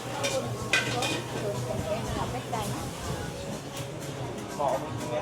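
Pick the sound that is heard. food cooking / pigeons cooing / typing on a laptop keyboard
food cooking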